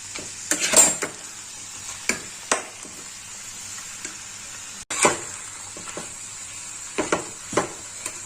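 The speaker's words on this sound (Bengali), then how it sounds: "এবার ভালো করে মিশিয়ে নেবো" Banana flower curry with cashews and raisins is stirred in a pan over a soft sizzle, with scattered scrapes and knocks of the spoon, a brief gap midway and no voices.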